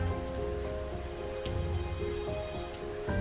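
Heavy rain pours steadily on surfaces as a background effect for a village story with a temple, making a dense continuous hiss with scattered drop patters throughout.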